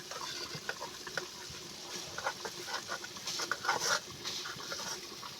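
Boiled lentils mashed in a pot with the back of a bowl, quiet rhythmic wet squelching and soft scraping taps close by, with no voices.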